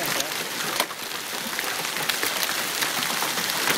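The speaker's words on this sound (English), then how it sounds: "It's producing hail." Hail falling during a hailstorm in Glasgow, Montana, a dense steady patter of stones hitting the ground and roof, close and constant throughout, with no talk.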